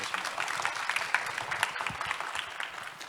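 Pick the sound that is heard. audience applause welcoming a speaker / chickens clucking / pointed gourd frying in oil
audience applause welcoming a speaker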